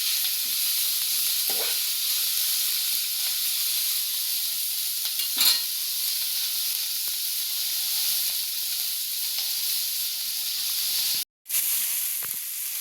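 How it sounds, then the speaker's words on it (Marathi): Onion and capsicum sauté in a hot pan with a steady, close hiss of sizzling, broken by a few soft stirring scrapes and one brief cut-out near the end. "आता कांदा आणि सिमला मिरची छान परतली आहे"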